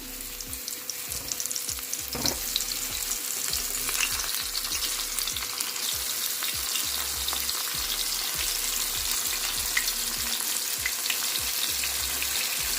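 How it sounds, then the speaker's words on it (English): Floured Banga Mary fish deep-frying in oil, Jamaican style, heard as a constant, dense crackling sizzle that holds steady and fairly loud throughout, with no one talking. "Alright, so allow them to fry properly."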